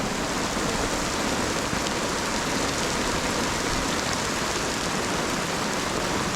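Heavy rain pours steadily outside a DIY tongue-and-groove pine cabin, with hail on the ground and strong winds expected; a dense, continuous hiss of water hitting surfaces fills the clip at a constant loud level with no voices.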